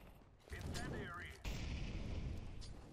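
Incendiary grenade in Counter-Strike: Global Offensive, a sudden whooshing burst that gives way to a sustained roaring crackle of flames, close and steady to the end.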